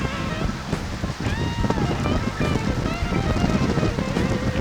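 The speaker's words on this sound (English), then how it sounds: "So windy out here, I have to yell just for you to hear me." Strong, steady wind roars and buffets the microphone on a fishing pier while someone shouts over it, with rushing broadband noise throughout.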